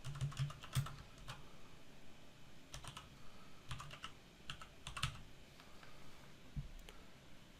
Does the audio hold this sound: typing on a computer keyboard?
yes